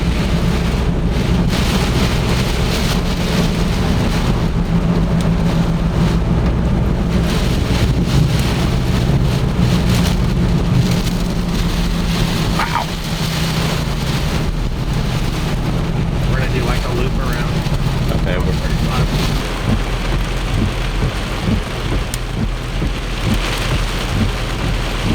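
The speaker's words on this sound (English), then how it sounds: "You really can't see it until you're in it because it's still raining so hard." Heavy rain pours down in a high-wind flooding storm on the south side of Norman, Oklahoma, a steady loud roar with wind buffeting the microphone throughout and no break.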